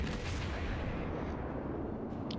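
Heavy naval artillery from warships in World of Warships rumbles in a dense, continuous roar of gunfire and blasts, loud and close throughout.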